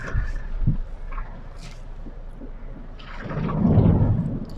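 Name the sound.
thunder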